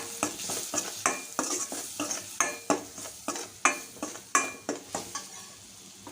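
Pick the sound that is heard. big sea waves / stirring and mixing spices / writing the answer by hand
stirring and mixing spices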